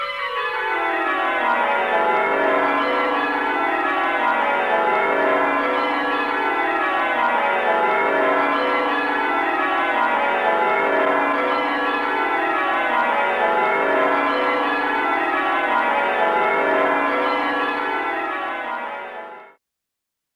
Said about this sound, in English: have a listen to this 30-year-old recording of Worcester Cathedral bells